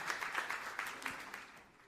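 Brief applause from a church congregation, a soft, moderately distant patter of many hands clapping for about two seconds with no talk over it.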